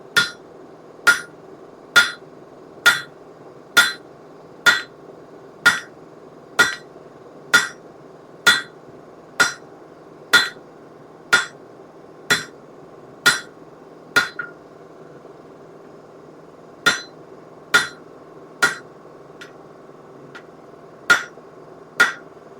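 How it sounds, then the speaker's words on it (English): Hot steel hammered on an anvil while forging a hot cut hardy tool, sharp ringing blows at a steady pace of roughly one per second, loud and close, with a short pause before the final strikes. "I guess I need to take a couple heats over on the anvil because it's still a little bit too wide for that"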